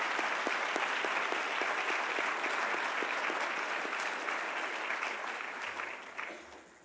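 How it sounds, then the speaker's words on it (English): A large commencement audience applauds the 2019 graduates with sustained, dense clapping that holds steady and then gradually fades out. "join me in applauding our 2019 graduates"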